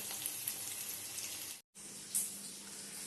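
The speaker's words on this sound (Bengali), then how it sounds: "এখন মাছ ভাজছি" Fish frying in a pan gives off a quiet, steady sizzle, heard somewhat distant and faint, with a brief silent gap partway through.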